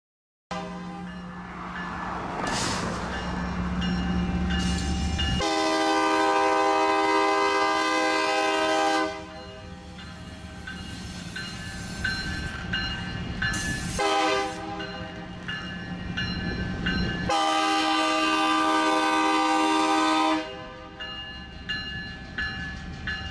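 A Pacific Harbor Line diesel freight locomotive rumbles nearby in a rail yard, sounding several long, loud horn blasts separated by stretches of engine idling and rolling noise.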